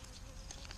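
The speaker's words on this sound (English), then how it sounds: "those are my honeybees right there" Honeybees buzz faintly near garden hives, a soft continuous drone with brief passes drifting closer and away.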